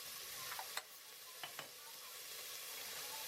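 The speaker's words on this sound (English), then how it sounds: "You want to cook your beef on a medium-high heat for about 5 to 7 minutes until it's nice and crispy on both sides" Beef sears in a hot pan over medium-high heat for a beef stew, a faint steady sizzle with a few brief utensil clicks and taps.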